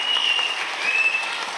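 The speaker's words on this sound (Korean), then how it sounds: "박수 한번 해주세요" A church congregation claps in brief, dense applause, a close wash of many hands that holds steady for about a second and a half.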